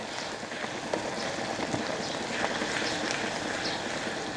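Ginger garlic paste fries in a pan, giving a dense, continuous crackling sizzle that stays close and even for a few seconds, with no voices.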